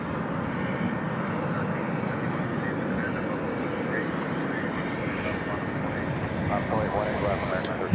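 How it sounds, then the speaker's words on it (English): Boeing 737-800 landing at DFW airport at night after a flight from San Antonio, its engine rumble a steady moderate roar that swells slightly near the end, with talk faintly mixed in. "We had a plane landing there, and it was coming to us from San Antonio,"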